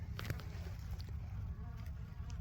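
A honey bee swarm hums steadily in a tree at a tree farm, forming a dense, continuous buzz of many insects that stays close and even throughout, with no voices.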